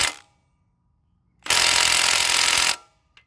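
An impact-type power tool rattles loose the rear axle nut on a Kawasaki KM100 motorcycle during a chain and sprocket change, a single loud burst of about one second, close by, preceded and followed by quiet.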